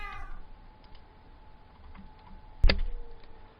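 Minecraft cat sounds from a game mod: a short meow at the start, then faint keyboard and mouse clicks and one sharp click near the end, all close and without talk.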